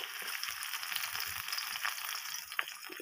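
Chopped onion frying in hot oil in a pan, a steady bright sizzle with a few soft pops throughout, fairly close and alone.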